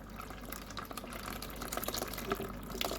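Wort runs from the tap of a Guten 70L brewing system during an IPA brewday, a close, continuous splashing and trickling stream that grows slightly louder and busier as it flows, with no talking.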